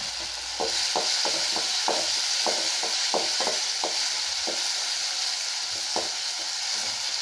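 Steady sizzling of vegetables sautéing in oil, with a run of sharp spatula scrapes and taps against the pan; no one speaks.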